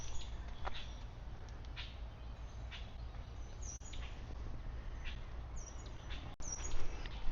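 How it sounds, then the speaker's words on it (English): Light bird chirps and short calls drift in from a distance over a steady low outdoor hum in the small town of Lumpkin, Georgia, scattered sparsely through the quiet. "I love to hear the birds and the trees in these small towns"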